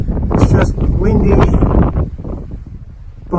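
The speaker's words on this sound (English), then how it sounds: "Today the wind is just howling" Strong wind blows across a trail on Mount San Jacinto, buffeting the microphone with loud, rough low-frequency rumble that gusts and then eases toward the end.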